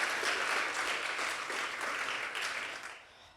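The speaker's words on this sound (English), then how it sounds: "if we could give a huge round of applause for her service today" An audience at a community grant pitch event applauds, a dense even wash of clapping that holds steady and then fades away in the final half second.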